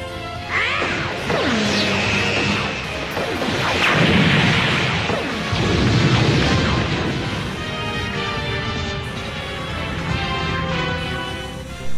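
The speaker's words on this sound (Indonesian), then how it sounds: "dia pun segera menembakkan tembakan laser bertubi-tubinya ke arah Android 17" Loud crashing blasts and booming impacts pile up rapidly with whooshing energy bursts, a continuous barrage of rapid laser-fire battle effects from Dragon Ball GT anime.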